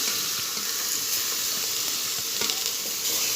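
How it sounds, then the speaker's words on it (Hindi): Roughly a kilo of meat with bones hits golden fried onions in a pot for haleem, giving a steady, loud, hissing sizzle with light stirring scrapes throughout and no talking. "प्याज हो गए गोल्डन, तो इसमें शामिल कर देते हैं गोश्त।"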